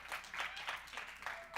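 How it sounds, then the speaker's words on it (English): An audience clapping as a speaker walks up to the front at a church live stream, a faint, steady patter of applause with a voice briefly heard over it. "you got to clap the whole time I'm walking up"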